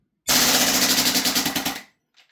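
A custom gas blowback airsoft PCC rifle fires a rapid full-auto burst of roughly a dozen sharp, evenly spaced cracks lasting under two seconds, loud and close, then cuts off.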